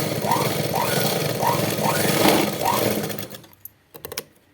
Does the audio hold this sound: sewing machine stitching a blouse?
yes